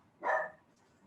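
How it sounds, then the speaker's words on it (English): A single short bark from a dog, fairly close and clear, over a quiet background. "noticing with mindful awareness the sounds of my dogs barking"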